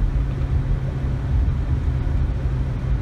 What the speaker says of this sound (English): This thing's running pretty rough. Feels like it's misfiring.